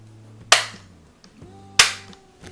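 An unloaded MTs7/MTs8 collector's shotgun dry-fires with two sharp, close metallic trigger clicks about a second and a half apart, each decaying quickly over a faint low hum.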